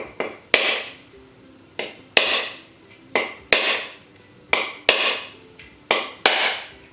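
Repeated hard cracks of a coconut shell being struck, about a dozen sharp hits in an uneven rhythm, each ringing briefly; close and loud, no talking.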